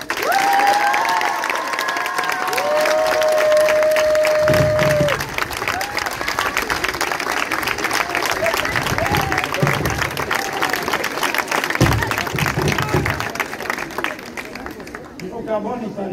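Audience applause and cheering welcome a rapper onto a summer concert stage in Metz. A large crowd claps steadily throughout, with whoops and chatter mixed in and a few brief tonal whistles near the start.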